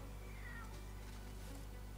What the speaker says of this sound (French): Il y a des chats.